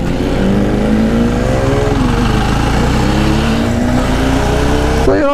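A Jawa Perak motorcycle engine thrums loud and close while riding, its steady, throbbing exhaust note rising gradually in pitch as the bike accelerates, with wind noise underneath.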